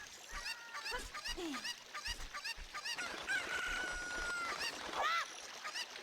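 A cucco chicken in Zelda: Ocarina of Time, at Zora's River, clucks and squawks in short, repeated bursts. The calls are moderately loud, with soft footsteps and game noises around them.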